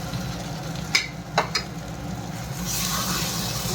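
Fried potato pieces are stirred into sizzling spice masala for a fish and eggplant curry. A few sharp spoon scrapes and clinks come first, then a steady frying hiss swells toward the end.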